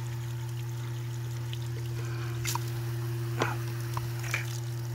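Water flushing through a septic system lateral line during an AdvanTex inspection, a faint trickling stream with a few brief splashy spurts over a steady low electrical hum, no voices.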